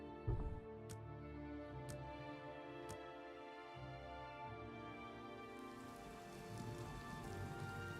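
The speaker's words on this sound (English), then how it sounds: "Rainy, it's raining." Steady rain falls in the game Oblivion Remastered, a continuous even hiss of drops on surfaces with a droning ambient music bed underneath and a few faint chimes.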